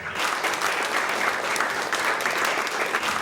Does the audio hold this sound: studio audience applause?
yes